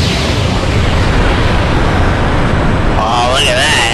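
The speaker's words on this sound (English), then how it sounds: "Boomstone cannon, fire!" The Boomstone cannon fires in the airship game Skies of Arcadia Legends, a loud sustained blast and rumble, followed near the end by a voice talking.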